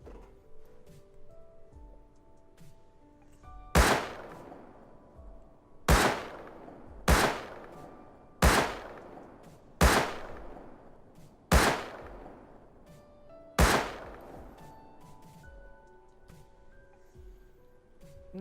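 Seven sharp, loud shots of high velocity ammunition fired in the video game Rust, spaced about one to two seconds apart, each with a long decaying echo, over faint ambient background.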